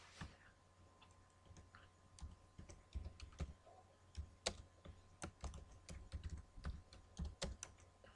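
Light, irregular keystrokes tap on a computer keyboard, close and quiet, in quick uneven bursts.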